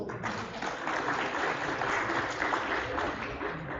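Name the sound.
auditorium audience applause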